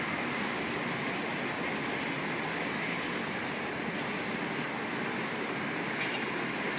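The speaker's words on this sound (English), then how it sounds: "There's a Tangara approaching platform 1." A Sydney Trains Tangara nears platform 1 at Chatswood station, a steady, loud rumbling roar of wheels on track that fills the whole stretch, with faint higher squeals above it.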